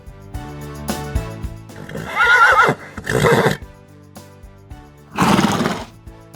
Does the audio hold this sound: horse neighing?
yes